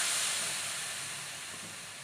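Hot rava laddu mixture hisses steadily as a little milk is poured in off the stove, a broad steamy sizzle that fades slowly, heard alone without talk.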